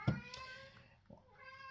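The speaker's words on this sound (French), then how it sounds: "vous entendez mon chat, il est en train de miauler" A house cat meows indoors, a short faint cry at the start followed by softer, drawn-out vocal sounds, quiet and fairly close with no clear speech.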